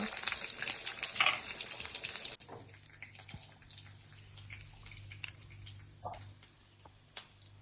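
Chicken meat frying in oil in a pan gives a loud crackling sizzle at first, which drops abruptly to a quieter bubbling hiss with scattered ticks and pops.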